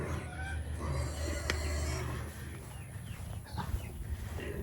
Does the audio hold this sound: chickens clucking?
yes